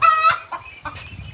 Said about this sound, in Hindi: मुर्गी शोर मचा रही है कि मैंने अंडा दे दिया, उठा लें।